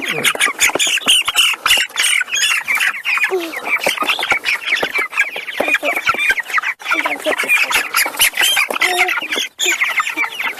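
Young chickens squawk and cluck loudly and continuously, many birds at once in dense overlapping calls, close and busy throughout, outdoors on pasture.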